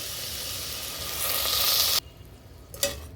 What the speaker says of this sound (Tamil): இப்போ இதில் தேங்காய் பால் சேர்த்துக்க போகிறேங்க